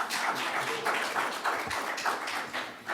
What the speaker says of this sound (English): if we could just refrain from applause for the remainder of the hearing